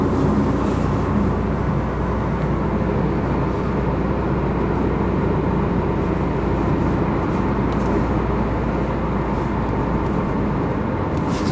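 A 2003 Mitsubishi Eclipse with an automatic transmission cruising in drive, heard from inside as a steady, continuous low road and engine rumble with broadband tire and wind noise, no talking.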